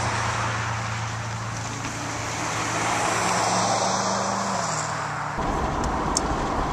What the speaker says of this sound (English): I'm about to take this Corvette for a test drive.